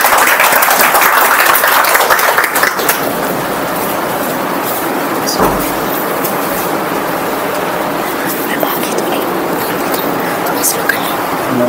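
Applause from an awards-ceremony audience welcoming a speaker to the stage, a dense steady wash of clapping that fills the clip at even loudness, strongest in the first seconds.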